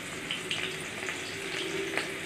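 Chopped onion frying with cumin seeds, bay leaf and oil in a pan for cabbage kofta curry, a steady close hiss with faint crackles running through the whole short stretch.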